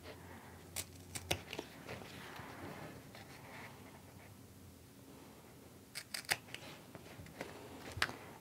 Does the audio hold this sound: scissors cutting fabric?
yes